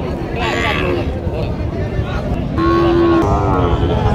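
A bull lows at a busy rural cattle market in Panchbibi, with long, loud moos rising over a steady crowd babble and nearby talk.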